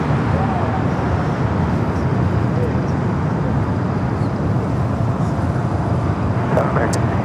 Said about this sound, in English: First heavy departure of today's stream.